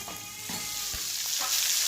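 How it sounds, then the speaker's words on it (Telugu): Boiled mutton pieces fry in hot oil with spices, giving a continuous loud sizzle broken by soft stirring and scraping knocks of a spoon against the pan. "ఉడవ పెట్టిన మటన్ కూడా వేసేసుకొని కలిపి వేసుకున్నాం"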